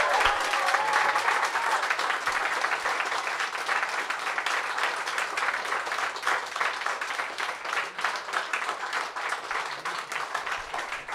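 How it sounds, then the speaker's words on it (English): A live audience applauds steadily for a guest at a Kerrang-hosted interview event, dense even clapping that fills the room for around eleven seconds with no speech over it. "round of applause, please"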